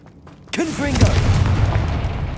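A Confringo fire spell from Hogwarts Legacy lands with a sudden booming blast, then a sustained fiery rumble and crackle. A voice cries out briefly over the blast.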